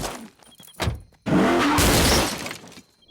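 A stolen police car in an American Dad cartoon crashes in a loud, close burst of impact noise with crunching and shattering, after a brief engine rush and a few sharp knocks.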